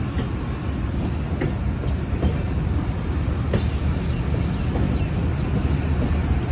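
A train stands at Peshawar City railway station, giving off a steady, loud rumble and engine drone with faint clanks and knocks scattered through it.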